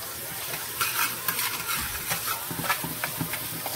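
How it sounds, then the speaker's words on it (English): Aromatics sauté in a pot for Jamaican brown stew pork, giving a constant sizzle broken by repeated stirring scrapes and soft utensil knocks, close and moderately quiet. "So you get these sauteed for at least a minute."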